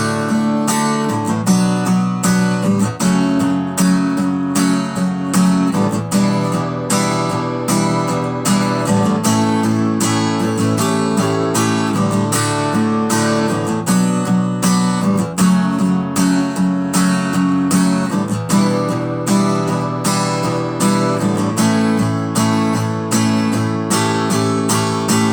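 Strummed guitar plays the chord rounds of a song, steady rhythmic downstrokes repeating the progression through two cycles, clear and close with no talking.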